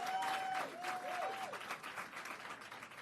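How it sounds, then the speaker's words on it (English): Steady applause from a crowd at a Kamala Harris political event in Arizona, many hands clapping continuously, with a few tonal whistle-like sounds early on. "let's give those election workers a big round of applause"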